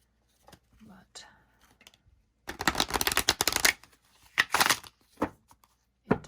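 Tarot cards being riffled and shuffled in bursts of dense crackling flutter, close by, with quiet rustling and handling between the shuffles of the split, slick deck.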